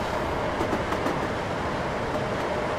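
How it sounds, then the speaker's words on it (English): Train passing in the Train Simulator 2015 game, a loud steady rumble and rush with a few rhythmic clicks from the wheels, close and continuous with no talk. "There's a train coming."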